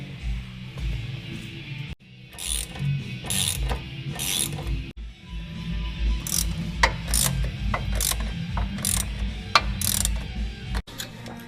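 A ratchet tightening lift kit bolts on a 2015 Jeep Willys gives repeated rapid clicking strokes in bursts with brief pauses between, close and fairly loud, over faint mechanical rattles.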